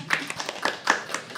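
A single person claps alone in a small room during a live poetry open mic, a sparse, uneven run of sharp hand claps at close range with no other applause joining in.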